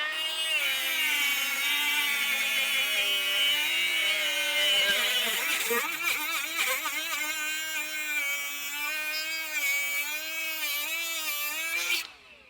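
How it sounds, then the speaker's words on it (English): Two Milwaukee M12 cordless die grinders fitted with cutoff wheels cut through bolts side by side, giving a loud, continuous high-pitched whine with shifting pitch as the wheels bite into the metal, stopping abruptly near the end. "We are about to cut these bolts right here and race just to show you the difference."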